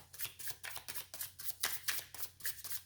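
Tarot cards are shuffled briskly by hand, a rapid run of soft riffling slaps and flicks close up, quiet and with no talking.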